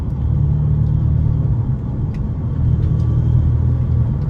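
A BMW 320i E93 convertible fitted with a new aftermarket exhaust cruises along, its deep, steady engine rumble loud and close throughout with a slight swell in the second half.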